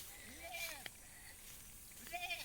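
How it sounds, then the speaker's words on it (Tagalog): Goats bleat on a farm in La Union province, Philippines, several wavering calls rising near the start and again near the end over a steady outdoor background, with a voice talking in between. "Hawak-hawak ko na yung mga kambing."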